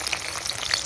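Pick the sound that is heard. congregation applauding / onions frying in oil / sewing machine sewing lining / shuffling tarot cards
onions frying in oil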